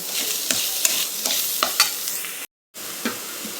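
Grated coconut and sugar being stirred in a hot pan for narali bhat, a steady sizzle with repeated scraping strokes of a spoon, close, broken by a brief moment of silence.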